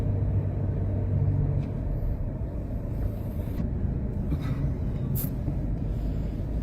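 Heavy expressway traffic in a rainy-evening jam, a continuous low rumble of idling and creeping cars, buses and trucks, with a brief hiss like an air brake partway through.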